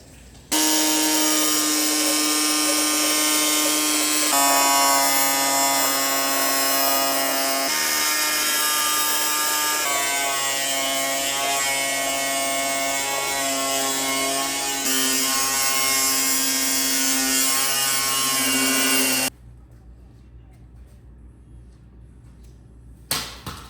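Angle grinder cutting metal for a lift kit on a Mazda Miata, a loud steady high-pitched whine with shifts in pitch as the disc bites, running for about nineteen seconds before cutting off to quiet shop noise.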